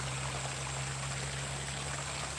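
Water flowing beside the Gubbi Gubbi grinding grooves makes a steady, broadband stream-like wash, continuous and moderately quiet, with a low traffic hum underneath.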